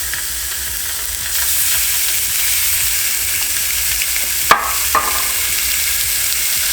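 Meat sizzles steadily on a preheated smokeless electric grill, a dense bright hiss that stays even throughout, with a couple of small pops and clicks near the end.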